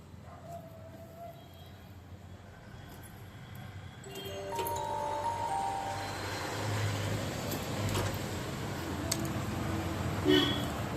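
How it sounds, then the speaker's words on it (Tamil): Street traffic with buses passing and vehicle horns honking intermittently, a steady rumbling roar that grows louder midway with scattered horn toots, heard outdoors while work on a Hero Dream Yuga 110 bike is underway. "ஏன்னா பஸ் சவுண்டுலாம் ஹார்ன்ஸ்லாம் ரொம்ப கேட்கும்"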